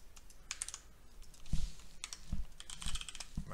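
Clicky keystrokes on a computer keyboard come in short bursts and single taps, close and fairly loud, with a few heavier thumps mixed in and no voices.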